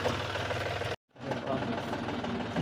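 A steady, loud tractor engine rumble runs throughout with a brief full cutout near one second, then resumes; faint voices mix into the noise.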